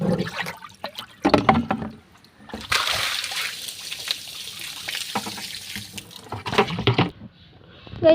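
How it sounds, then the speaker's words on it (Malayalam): Water from a rain-filled outdoor fish tank is drained by hand, with irregular splashes and pouring bursts, pauses between scoops, and a longer sloshing stretch in the middle, close and moderately loud. "നമുക്ക് കയ്യിലെത്തോളം നമുക്ക് വെള്ളം വറ്റിക്കാം."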